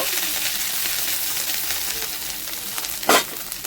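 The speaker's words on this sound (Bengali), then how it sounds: "আদাটা একটুখানি আমি এইভাবে ভেজে নেব" Ginger paste fries in a pan with cumin tempering, a steady close sizzle with a brief louder burst near the end.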